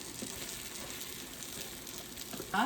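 Rice and a whole onion frying in oil on a stovetop, giving a steady, close sizzle and crackle with a brief louder scrape near the end.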